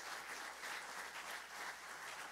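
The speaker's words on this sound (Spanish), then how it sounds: "a round of applause." A church congregation in downtown Los Angeles applauds during a bilingual unity sermon, a steady, dense round of clapping that fills the whole stretch without voices.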